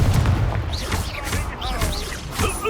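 Confringo fire-blast spell from the game Hogwarts Legacy, several sharp explosive bursts among combat sounds, with voices heard throughout.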